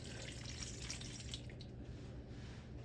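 Warm water poured into a mixing bowl for bread dough, a steady close trickling and splashing at low level that runs on continuously without pause.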